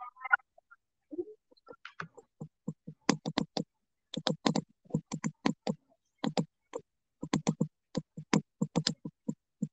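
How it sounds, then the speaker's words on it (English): Keys on a computer keyboard are tapped in quick bursts of crisp, close clicks separated by short pauses, with no voices. "I am typing now."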